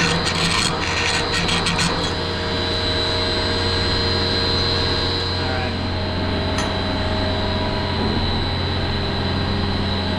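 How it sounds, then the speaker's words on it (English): A hand tool deburrs the inside and outside of a cut pipe on an HVAC filtration system rebuild, a close, steady scraping and rasping over a constant mechanical hum, with a few sharp clicks early on. "Just deburr the inside and the outside."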